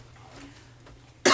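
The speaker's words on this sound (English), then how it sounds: "I've been coughing ever since I got back home" A single short cough, close and sharp, at the very end after a quiet stretch with faint background noise.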